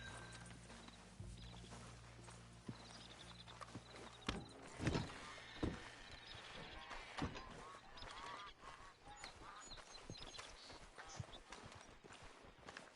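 Horses' hooves clip-clop as riders come to a stop to hitch up, a string of scattered hoof knocks at moderate distance with faint honking in the background.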